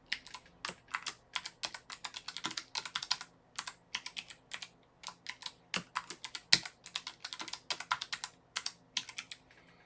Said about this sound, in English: you enter the password, confirm, and then you register